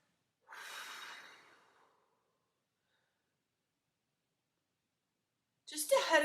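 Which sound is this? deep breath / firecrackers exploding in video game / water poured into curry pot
deep breath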